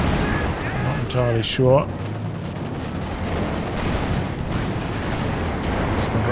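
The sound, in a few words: Katyusha rocket artillery firing in Company of Heroes 2 video game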